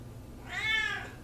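A single cat gives one short, rising meow, close and fairly soft, with a quiet background and no talking.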